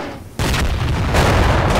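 Massed video-game artillery pieces and battleship guns fire in a sudden loud booming barrage, then keep rolling as one continuous, heavy thunder of overlapping blasts.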